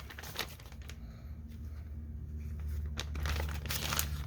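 Close crinkling and rustling of a plastic Ziploc bag, irregular bursts of crackle growing slightly louder toward the end, with no talking.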